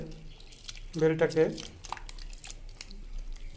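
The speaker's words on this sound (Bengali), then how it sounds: "জলটাকে ভালো করে চটকে নেব।" Bael (wood apple) pulp squished and mashed by hand in water, giving soft wet crinkling and dripping squelches with a brief louder burst, close by, while a voice talks.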